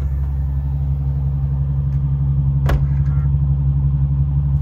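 2004 BMW 760Li V12 with a custom F1-style exhaust idling close by, a loud steady low rumble with one brief sharp knock partway through.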